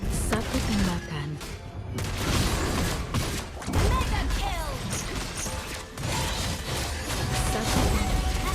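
Gunfire and impacts from Lesley in the Mobile Legends video game crack through busy battle effects, with repeated shots and crashes over a dense game soundscape and a voice announcer speaking.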